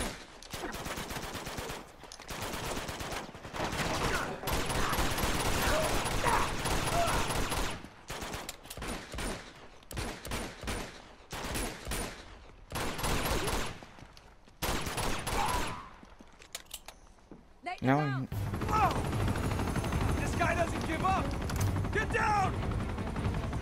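Uncharted 2 video game gunfire during a mini boss fight: loud bursts of shots and automatic fire in choppy clusters separated by brief gaps, ending in a sustained, noisier stretch of combat with a voice talking over parts of it.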